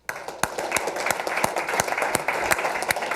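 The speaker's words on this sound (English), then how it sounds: "I'd like to give the economic development team a round of applause" At a council retreat presentation, a small room gives a round of applause, a few distinct close claps standing out from a modest group clapping at a steady, brisk rhythm.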